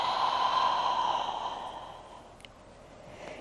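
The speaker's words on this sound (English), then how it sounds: "And breathing out." A long, soft exhale during a vinyasa yoga flow, heard close and breathy. It starts fairly strong and gradually fades away over about two seconds.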